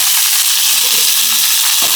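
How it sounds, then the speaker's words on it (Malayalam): Loud, dense sizzling and crackling of mustard seeds and curry leaves hitting hot oil, a continuous frying hiss close by. "എണ്ണ ഒഴിക്കുക, കടുക് പൊട്ടിക്കുക, കുറച്ച് കറിവേപ്പില ഇടുക"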